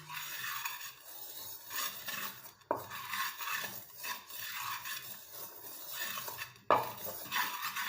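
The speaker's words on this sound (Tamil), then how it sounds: "இந்த கல்லில் இதை நல்லா வந்து இந்த மாதிரி ப்ரெஸ் பண்ணி விடுங்க" Natural hair dye ingredients are crushed on a stone with a pestle, giving a quiet, steady grinding and scraping, with two sharper knocks of stone on stone, close up and with no talk.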